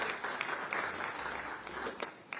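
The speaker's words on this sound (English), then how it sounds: "Please, a round of applause for him as he steps forward." Faint, distant audience applause at a banking conference in Nigeria carries steadily on for a couple of seconds as a guest steps forward.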